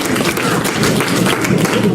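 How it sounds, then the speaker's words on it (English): Audience at a campaign speech clapping loudly and densely in a continuous burst, close and full throughout with no clear pauses. "Let's give him a round of applause."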